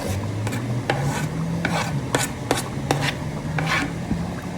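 Spoon stirring country style ribs and potatoes in a pot, a series of scraping, rasping strokes at an uneven rhythm over a soft simmering background, close and alone.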